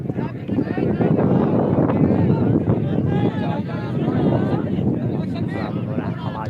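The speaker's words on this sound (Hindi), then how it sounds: "हवा चल रही है" Wind buffeting a microphone at an outdoor village football match, a steady loud rumbling roar that lasts throughout, with crowd voices and talk mixed in underneath.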